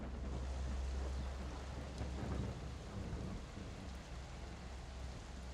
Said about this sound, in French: Vous entendez la pluie commencer à tomber.